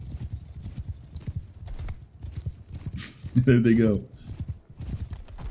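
Horse archers gallop in a Mount & Blade 2: Bannerlord battle, hooves drumming steadily underneath someone talking, and one horse whinnies loudly partway through.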